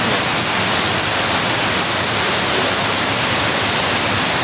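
River water rushing steadily beneath a bridge, a loud, dense and continuous broadband roar with no pauses or distinct events, heard alone with no voices.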